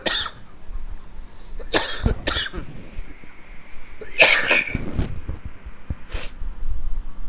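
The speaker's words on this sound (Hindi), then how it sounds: "बहुत खांसी आ रहा है।" A person coughs in several sharp bursts, a pair close together then a louder one and a short final cough, spaced across a quiet indoor room during a software tutorial.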